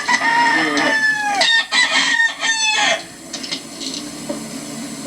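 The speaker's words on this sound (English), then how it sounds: "I'm going to get another rooster out here." A rooster being conditioned and handled crows once, loud and close, its long call rising and falling, followed by softer clucking.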